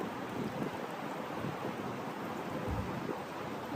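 Heavy rain pours down outdoors in New York City in a steady, dense hiss, constant and enveloping with no voices.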